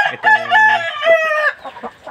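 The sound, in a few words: Aseel chickens crowing and clucking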